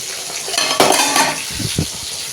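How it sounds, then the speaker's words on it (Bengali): Fish fries in a pan and crackles with short popping bursts over a sizzle, mixed with utensil clinks and scraping close by, with no voices. "দেখো এখন হচ্ছে মাছ ভাজা, কি ফাটছে মাছটা, বাপরে বাপ"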